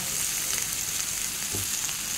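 Pumpkin frying with softened onions in a pan gives a steady, close sizzle that holds evenly throughout, with a brief stir-like scrape partway through and no talking.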